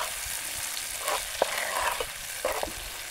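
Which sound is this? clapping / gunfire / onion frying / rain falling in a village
onion frying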